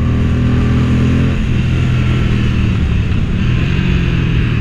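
Steady, loud engine drone of a Moto Guzzi motorcycle while riding near Mandello, with a deep continuous rumble and wind rush that never lets up.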